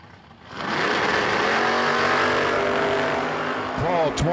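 A 1968 Chevelle drag racing car launches at a drag strip, its engine roaring loud and sustained with a steady high-rpm drone, tire noise and a final shift or lift near the end.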